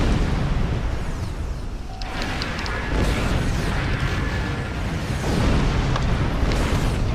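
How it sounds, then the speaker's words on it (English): The Victory, a spaceship in a video game, blows up in a deep, sustained rumbling blast with a dense low roar that keeps going for several seconds, joined by a few faint metallic pings. "Oh, there you go, the Victory blew up."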